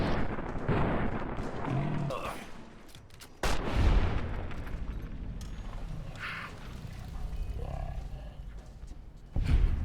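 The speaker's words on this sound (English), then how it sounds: "Oh, it was a grenade rifle is what it was." Grenade rifle shots in the game Fallout: New Vegas: two sharp, heavy bursts stand out over a busy bed of in-game noise, while a voice talks through much of it.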